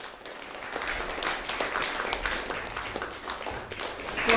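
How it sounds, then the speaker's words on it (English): Steady, dense applause from a seated audience at a music scholars' masterclass, continuous and fairly close, swelling slightly toward the end with no talking. "Let's give them a big round of applause for coming to support"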